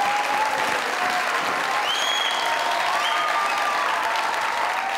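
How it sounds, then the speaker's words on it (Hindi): A studio audience at a comedy talk show claps steadily, a dense and fairly loud round of applause with a few whistles and cheers riding over it, continuing for the whole stretch. "चलो जी, तालियां।"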